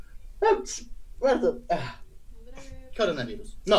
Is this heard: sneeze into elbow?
yes